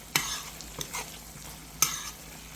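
Onions added to a frying pan with a little oil, stirred in a few quick scrapes that rise sharply over a faint background sizzle, with three distinct bursts close by.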